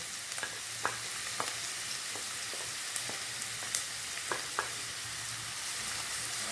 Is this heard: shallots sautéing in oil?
yes